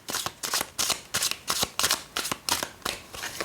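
A deck of Austin Osman Spare tarot cards is riffled in quick repeated bursts, about ten crisp papery shuffles in steady rhythm, close and clear with no talking.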